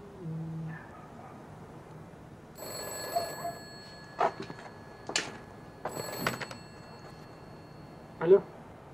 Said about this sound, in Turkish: Telefon din.